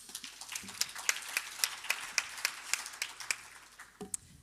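A conference audience at a bioeconomy panel session gives light applause, a thin run of distinct, fairly evenly spaced handclaps at moderate volume that fade out after about four seconds.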